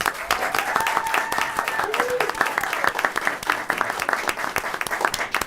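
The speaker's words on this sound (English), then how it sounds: "So give them a big round of applause." An audience at a school district board meeting claps steadily for several seconds, a dense continuous patter of many hands filling the room, with some voices mixed in.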